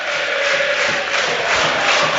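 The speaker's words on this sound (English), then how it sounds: "The crowd in good voice." Football crowd at an Arsenal v Watford match, a steady, loud wash of massed voices singing and roaring continuously across the stadium.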